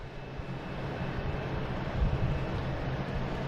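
A Lufthansa airliner taxis across a runway at Boston Logan Airport, heard as a low, steady, distant jet rumble mixed with broadband wind-like noise, with no voices.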